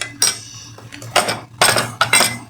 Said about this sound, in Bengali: দুটোটাই একত্র করে আমি মিশিয়ে নিলাম